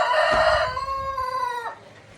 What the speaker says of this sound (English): a hen that wanted to go broody here